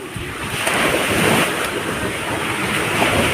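Sea waves roll and wash ashore at a beach while strong wind buffets the microphone, making a constant loud roar with no talking.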